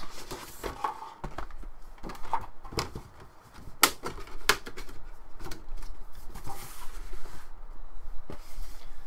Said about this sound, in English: I'll just pull all the packaging out